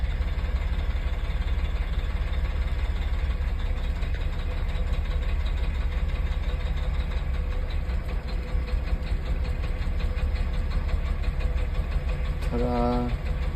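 A Cat C-13 diesel in a coach idles steadily during a cylinder cutout test, a low constant drone with a faint rhythmic knock, heard quietly while a person talks over it.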